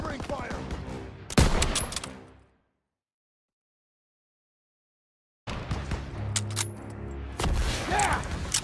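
Machine gun fire in Call of Duty: WW2, dense bursts of rapid gunshots amid battle noise, broken by a few seconds of total silence before the firing and clatter resume, close and loud.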